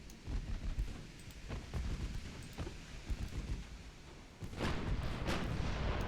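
Big 12-inch battleship guns boom in a naval combat game, heavy deep blasts over a rumbling battle background, with louder sharp volleys near the end.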